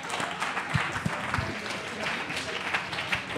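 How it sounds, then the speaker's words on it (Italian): Studio audience applause during a comedy podcast recording, a steady patter of many hands with scattered louder claps, mixed with murmuring voices. "Un applauso a Fulvio, per favore"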